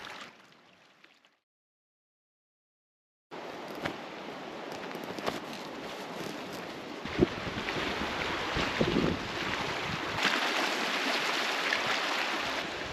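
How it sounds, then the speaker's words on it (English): Wind gusts across Revelstoke Lake on a canoe trip, a steady broadband rush with microphone buffeting that starts abruptly after a brief quiet gap and stays loud, swelling in stronger gusts toward the end. "it is still pretty windy"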